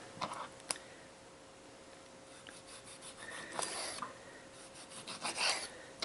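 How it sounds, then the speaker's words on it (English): Knife slicing raw chicken into half-inch pieces for a low-carb chicken parm, heard as soft rasping cuts and scrapes against a board, several strokes spread through the stretch, close and fairly quiet with no talking. "I'm going to cut it this way first, and I'll cut the rest of them like this. Probably about a ½ inch thick."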